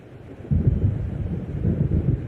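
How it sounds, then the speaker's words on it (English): Deep thunder of an approaching storm in the Alan Wake video game, a low rolling rumble that swells after a quiet start and keeps churning steadily, with wind-like noise mixed in and no voices. "It seems there's a storm coming"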